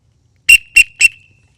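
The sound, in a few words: emergency whistle blown three times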